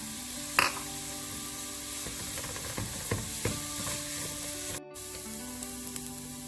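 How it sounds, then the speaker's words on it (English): Grated coconut and chopped green chilies sautéing in a pan for cabbage thoran, a steady soft sizzle with occasional scraping stirs and light clicks throughout. "After 1 minute of sauteing, I'm going to add in 1 cup of grated coconut."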